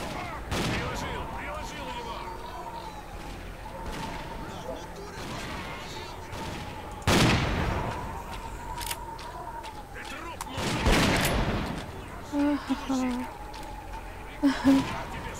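Gunfire in the video game S.T.A.L.K.E.R. Clear Sky: several sharp shots stand out, two of them louder bursts, over a steady droning game soundscape, with a voice talking at points.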